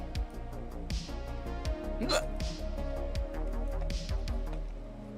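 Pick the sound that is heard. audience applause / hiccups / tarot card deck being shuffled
hiccups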